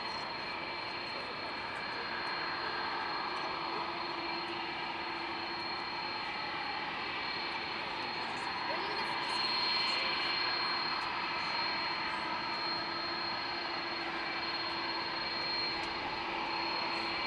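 An airliner taxiing at Dublin Airport gives a steady, continuous jet engine whine and broadband roar, moderately distant and even in level, swelling slightly midway with no talk over it.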